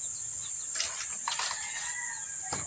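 Chickens squawk and cluck in alarm as one is caught, with agitated cries and a rustle of flapping over a constant high insect-like drone outdoors.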